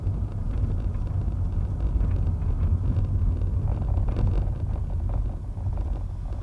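A 1996 Toyota Caldina 2.0 TZ 4WD cruising on a street, its steady low engine and road rumble continuous throughout, with some wind noise and no talking.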